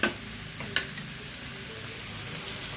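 Chicken fries in its own rendered fat with only a little added oil, producing a soft, steady sizzle with a couple of brief clicks or knocks near the start.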